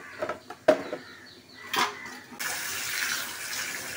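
Eggs rinsed under a running kitchen tap, a few brief splashes and knocks first, then a steady hiss of flowing water filling the last part, close and moderately loud.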